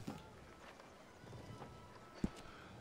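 Faint clip-clop of a horse galloping in Red Dead Redemption 2 while dragging a lassoed enemy, soft rhythmic hoofbeats in a quiet, low-level clip with one sharp knock near the end.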